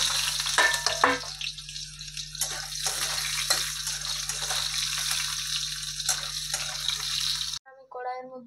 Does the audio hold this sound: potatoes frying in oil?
yes